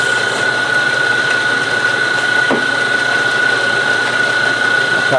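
Machine cutting through a metal test bar in a workshop, a steady loud mechanical hum with a sustained whine throughout.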